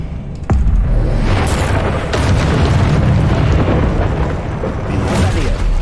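A Confringo blasting spell in Hogwarts Legacy, a sharp crack followed by a loud rumbling explosion that roars on and churns for several seconds.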